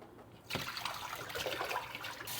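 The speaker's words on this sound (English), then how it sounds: "Cold water rinse." Cold tap water running over fruit as it is rinsed in the kitchen: a sudden gush starts after a brief pause and splashes steadily, close and moderately loud, then cuts off near the end.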